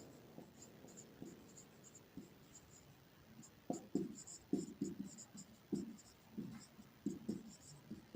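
Pen or chalk writing out a class 8 geometry solution on quadrilateral angles, faint scratching strokes in short irregular bursts that grow more frequent and louder in the second half, with no talking.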